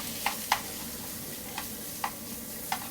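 Ground beef frying in a hot oiled pan, a steady low sizzle with a few sharp spatula taps and clinks at irregular intervals, close and quiet.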